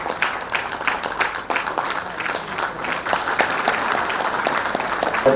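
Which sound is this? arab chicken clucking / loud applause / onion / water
loud applause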